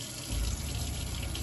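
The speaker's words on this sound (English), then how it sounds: "So I'll just show you hot running water." Hot water running from a campervan kitchen tap, a steady hiss and splash that starts abruptly and continues close by without talking.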